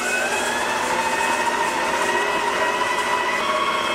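A VIVOHOME 6-quart tilt-head stand mixer running on its lowest speed gives a loud, steady motor whine and mechanical drone, unbroken for the whole stretch with no talking.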